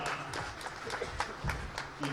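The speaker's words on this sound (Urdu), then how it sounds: "آپ لوگ بھی تالیاں بجا کر اس ٹیلنٹ کا" An audience at a student convention in Islamabad claps. Scattered, uneven hand claps repeat through the whole stretch over a roomy hall background.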